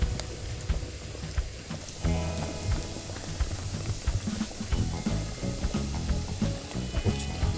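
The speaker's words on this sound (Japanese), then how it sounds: "木がブクブクいってる。" Sap bubbling, hissing and popping from a whole burning log in a campfire, with irregular crackles and a steady sizzle close by, no talking.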